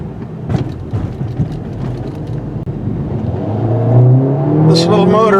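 A 2021 Mercedes GLA45 AMG engine revs up under acceleration, its loud note climbing steadily in pitch over a few seconds, beginning under speech.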